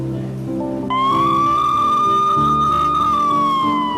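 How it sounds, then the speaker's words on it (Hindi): A loud police siren wails steadily over a rumbling engine and a low musical background, its pitch rising then slowly falling. "पुलिस के सायरन की आवाज़ आ जाती है"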